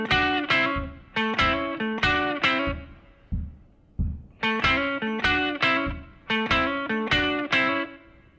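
A distorted electric guitar plays a syncopated 12-bar blues riff in A with hammer-ons, choppy punchy chord stabs in bursts separated by a short gap, played alone.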